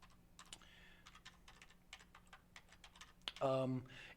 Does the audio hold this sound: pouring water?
no